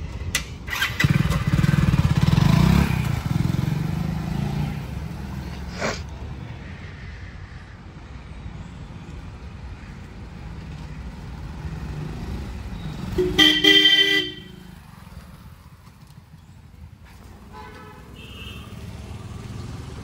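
A motorcycle rides up close, engine loud at first, then fading into a steady lower rumble, with a short burst of horn honking partway through.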